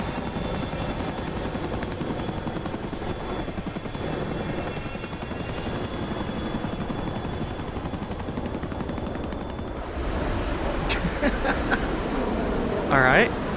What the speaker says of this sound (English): that Chinook just went down